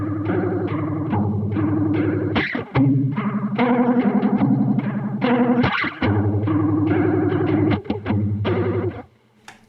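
An electric guitar runs through a flanger pedal set to an extreme setting. Sustained chords swirl and sweep with a hollow, watery, synthetic whoosh, loud and close, with brief pauses between phrases and no talking.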